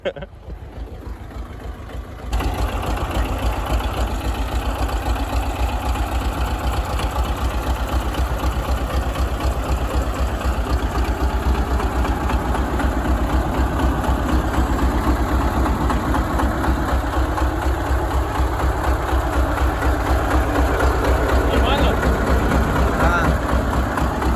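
A walk-behind tractor fitted for digging potatoes idles in a field, a steady low engine chug that starts after a brief quiet moment and runs on continuously, close and loud, with people talking faintly under it.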